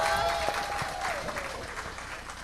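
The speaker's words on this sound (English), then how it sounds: "Give them a big round of applause." Audience applause at a Father's Day community event, steady dense clapping filling the whole stretch with a louder surge at the very end.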